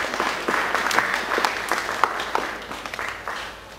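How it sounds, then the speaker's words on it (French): Wedding guests clap for the couple at a combined civil and religious ceremony, a moderate crowd applauding steadily and fading slightly toward the end. "Merci beaucoup, nous l'acclamons."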